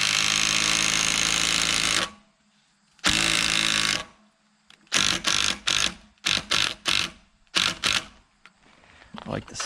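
Power tool driving lag bolts into roof rafters: two long whirring runs, then a series of short, loud bursts of driving with pauses between them, close by.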